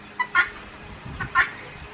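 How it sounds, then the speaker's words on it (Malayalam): Guinea fowl calling in a backyard poultry setting, two sharp, harsh call bursts about a second apart, fairly close over low ambient noise. "ഗിനി കോഴിനൊക്കെ ഉണ്ടോ"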